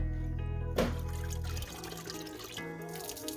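Hot wort pours and trickles back into a Klarstein mash kettle as the hot mash basket and chiller coil are lifted out together while brewing a California common; a steady close splashing that thins to a lighter dribble.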